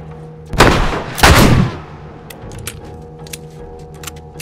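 Two loud, close gunshots ring out in The Last of Us, each a sharp broadband blast with a lingering tail, followed by quieter clicks and faint mechanical ticks.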